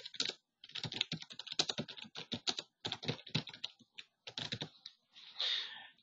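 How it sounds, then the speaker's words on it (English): Keys clatter on a computer keyboard as text is typed in quick, uneven bursts with short pauses, close and fairly quiet, ending in a brief longer press. "once I type in my text"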